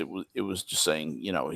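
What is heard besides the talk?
No everyday noises stand out.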